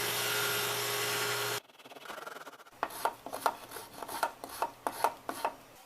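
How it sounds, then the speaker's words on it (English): Mortises are cut in a wooden Victorian window sash: a loud steady machine hum cuts off, then a run of close, rhythmic rasping and scraping strokes on wood follows. "Well, I cut the 2 mortises and they fit in the tenons."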